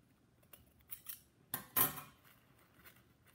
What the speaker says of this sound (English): I have one more here that just needs to be trimmed, so I'm gonna cut that down the center as well